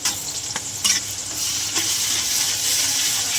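Onion, salt and ginger-garlic paste fry in oil left from frying Ganges chanda fish, giving a close, steady sizzle with a few sharp stirring scrapes early on and no voices.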